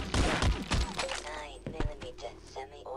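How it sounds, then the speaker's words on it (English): Gunfire in the Half-Life MMod video game: a dense, loud burst of shots at the start, then sparser single cracks, with voices talking over the shooting. "Stop shooting me!"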